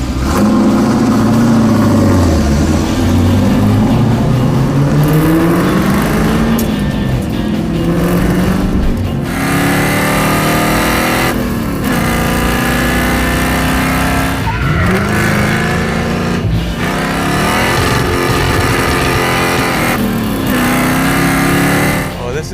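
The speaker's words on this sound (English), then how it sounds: "First time the Firebird has ever been on a road course." Pontiac Firebird race car on a fast road course, engine loud and close throughout, revving up and down through gear changes with brief lifts and tire squeal, people talking over it.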